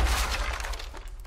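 An explosion goes off right beside the player in Rainbow Six Siege, a brief, close blast with a heavy low rumble and a crackling, glassy burst of debris.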